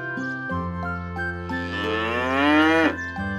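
A cartoon cow moos loudly and close, a long drawn-out call that rises and strains before cutting off, with a faint tinkle behind it.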